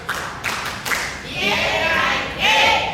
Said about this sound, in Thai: กลุ่ม5ปรบมือพร้อมกัน3 4